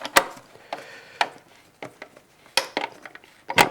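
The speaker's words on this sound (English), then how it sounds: "We'll use our wrench and just tighten those up" A wrench tightens the RCA connector fasteners on a Linn Klimax DSM, giving a scattering of light metallic clicks and small clanks with quiet gaps between them.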